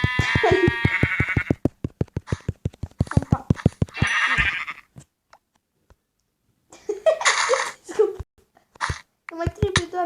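Sheep bleats from the Minecraft video game come in bursts between a rapid clicking, alongside a child's speech and giggling, with several separate bleats spread across the stretch.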